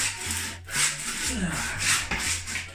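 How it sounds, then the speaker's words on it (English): A hand saw rasps through plaster behind bathroom silicone, a close scratchy stroking with uneven back-and-forth strokes and brief pauses, fairly loud and alone. "Probably actually cutting the plaster behind the silicone."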